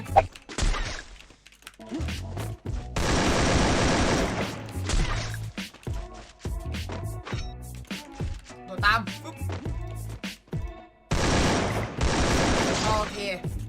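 Gunfire in the Free Fire battle royale game, including an M4A1 rifle: loud bursts of rapid automatic shots in several volleys with brief pauses, interleaved with sharper single shots and impacts, with someone talking excitedly over the action.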